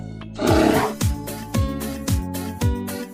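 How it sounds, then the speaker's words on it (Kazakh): A bear's deep, rumbling roar rises after a brief pause, followed by a series of about five rhythmic, rasping growls, loud and close with nothing else heard. "аю"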